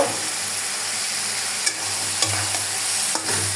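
Potatoes stir-fry for pabda fish curry in a pan, a loud, steady sizzle under periodic spatula strokes and scrapes, close up, with no talking.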